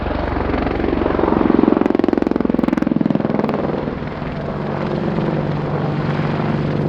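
A British Army AgustaWestland Apache helicopter flies a display at an air show, its deep rotor thump and turbine roar steady and loud throughout, swelling briefly then easing slightly.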